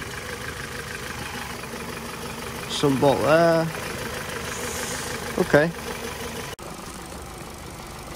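Warm petrol 1.6 engine of a Ford Focus mk3 idling steadily at close range during a service, with a noted ticking fault, running under brief spoken remarks from a man working on it.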